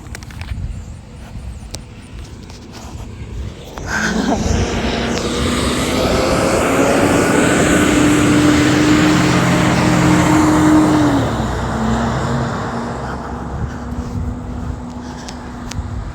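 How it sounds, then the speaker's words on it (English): A loud heavy vehicle, likely one of the trucks in a residential neighborhood, rumbles up and passes close by. The roar swells sharply, holds for several seconds with a droning engine tone, then fades back to quieter background traffic. "I can't stand these trucks."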